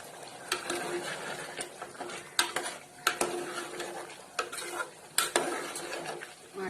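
Ridge gourd and chana dal bhaji, seasoned with Maggi masala, fries and is stirred in a pan over a high flame, with a sizzle under sharp scraping and clinking strokes of the spoon against the pan.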